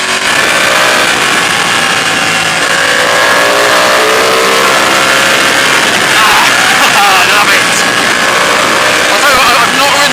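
Ducati 899 Panigale sport bike engine running steadily while riding at speed on a road, a loud continuous drone with rising and falling pitch and heavy wind noise, with a voice talking over it.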